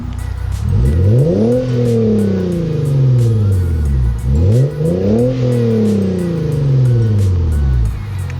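A 2016 Hyundai Genesis Coupe with a K&N Typhoon intake and a C&T Racing catback exhaust revs loudly and close by, two long rising and falling engine sweeps with a deep, throaty exhaust note and no talking.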